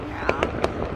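Fireworks pop in three or four quick, sharp bursts at some distance over a steady background hum, each crack short and distinct.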